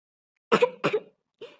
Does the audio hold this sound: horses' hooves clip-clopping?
no